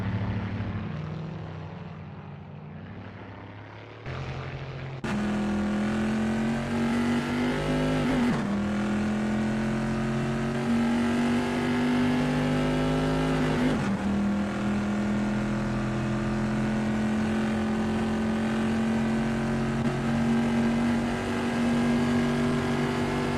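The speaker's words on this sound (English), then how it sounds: "That ACL GTC Bizzarini GT 5300 Casa looks good driving through Ravazza." Bizzarrini GT 5300 race car at Imola's Rivazza in Assetto Corsa, its big engine droning loud and close, rising steadily through the gears with short breaks at each upshift, and no voices.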